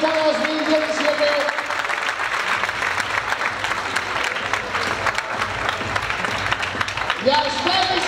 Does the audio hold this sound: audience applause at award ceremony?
yes